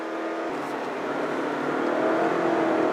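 Lexus NX300 compact SUV in sport mode pulling hard in first gear, the engine note climbing in a steady rising drone heard from inside the cabin, with no talk.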